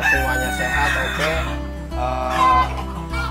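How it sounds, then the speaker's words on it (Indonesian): Ornamental chickens in a coop cluck and crow close by, overlapping calls rising and falling against a steady low hum. "saya biasanya ngecek ayam nih Pak, ngecek ayam ke kandang"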